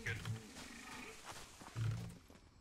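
A deep monstrous demon roar in a video game rises twice in short growling swells, loud and close, mixed with a low helicopter-like rumble in the background.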